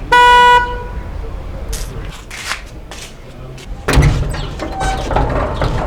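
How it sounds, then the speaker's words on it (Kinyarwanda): Car horn gives a single loud, close blast at the start, followed by street noise, clatter and people talking. "Ubwo ntabwo uri kumva ihoni"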